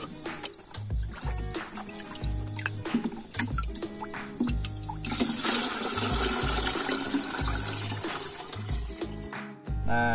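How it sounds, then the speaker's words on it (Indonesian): Decomposer solution for straw mulch is poured into a watering can, giving a continuous splashing, gurgling stream of liquid that grows brighter and fuller midway, with low thumps and knocks of handling underneath and no talking. "kita masukkan dulu ya ke alat siram."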